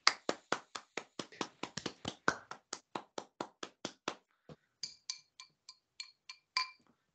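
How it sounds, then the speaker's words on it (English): Hands clap in a quick series of about twenty sharp, close claps, fairly loud and in a slightly uneven rhythm. A few softer, ringing claps follow after a short gap. "as we saw you weren't clapping your hands"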